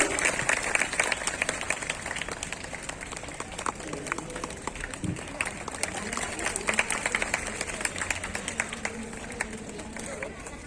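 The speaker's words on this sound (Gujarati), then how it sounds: "તાળીઓના ગડગડાટ ચાલુ રાખીશું" Continuous audience applause at a primary school annual function in Vadodara, steady and moderately loud throughout, blended with crowd murmur and scattered voices in a large hall.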